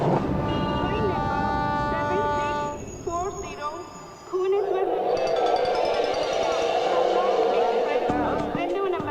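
A moving train rumbles steadily on its rails, a loud continuous running noise with a shifting tonal whine, heard under background music and a voice.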